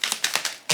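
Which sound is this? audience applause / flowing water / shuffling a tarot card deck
shuffling a tarot card deck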